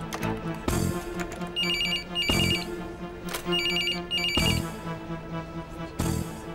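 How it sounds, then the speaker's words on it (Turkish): An office telephone rings in repeated electronic double bursts, a bright trilling tone pattern that cycles twice per round over a low background with thumping percussive accents. "Belin Hanım, size telefon var"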